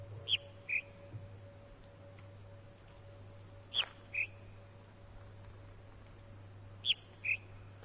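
Inside the video game The Witness, a bird gives a two-note whistled call three times at even intervals, clear and fairly near over a quiet ambient hum.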